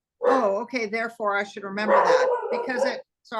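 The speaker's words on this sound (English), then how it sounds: "that's my dog in the background" A pet dog barks in the background while a person talks over it almost continuously, so the barks stay partly masked by the voice throughout.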